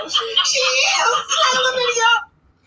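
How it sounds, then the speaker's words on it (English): A woman lets out a high-pitched, excited shriek lasting about two seconds, loud and close, with a brief dip midway before it cuts off into near silence. "her little shriek"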